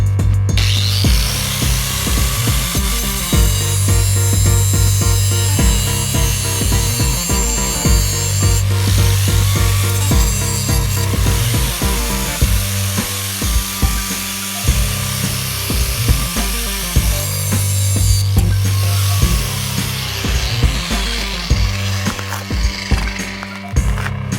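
Cutting through exposed rebar in a concrete door step during demolition gives a loud, continuous grinding and sawing roar with steady low hum and shifting pitch, running throughout with no talk.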